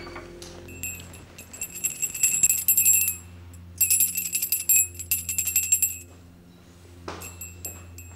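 A bell rung indoors in a home during a domestic scene, giving two bursts of bright, clinking metallic ringing that repeat rapidly, then a brief third ring, over a low steady hum.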